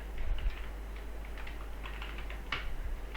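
Python code being typed on a computer keyboard, with soft, quick key taps in an irregular run under a steady low hum, no voice.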